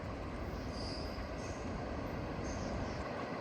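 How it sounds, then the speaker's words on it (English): A freight train passes at night, its steady rumbling roll of wagons and wheels carrying on evenly for several seconds with a faint high squeal, heard alone at moderate distance. "That's the end of the train with the flashing rear end device, commonly called a Fred."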